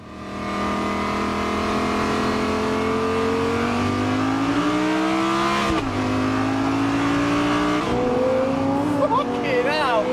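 A Lamborghini engine revs hard and loud for several seconds, pitch climbing and dropping through gear changes, with voices faintly underneath.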